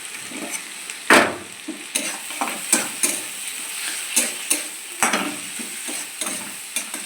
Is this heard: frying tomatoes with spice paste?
yes